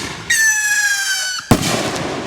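Fireworks going off outdoors in West Virginia: a rising whistling screech lasts about a second, then a sharp loud bang and crackling burst follow.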